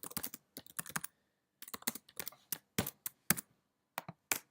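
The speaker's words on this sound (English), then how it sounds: "if I type some text now" Typing on a computer keyboard in short bursts of quick, close key clicks separated by brief pauses, the keystrokes alone with no voices.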